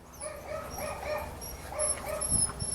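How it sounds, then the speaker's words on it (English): A female dog up for adoption whines in short high nasal whimpers, several drawn-out cries in a row close by, ending with a couple of soft low thumps. "She's not barking, she's whining"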